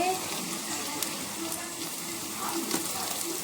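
Onion frying in a pan gives a steady, fairly soft sizzle that hisses continuously throughout, with faint occasional clicks and no talking over it.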